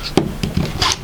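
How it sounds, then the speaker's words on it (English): Scissors or a rotary cutter slicing through stacked quilting fabric pieces cut 6 inches wide, giving a few short, close rasping cuts with brief pauses between them. "I'll just put them right on top of each other and cut 6-inch"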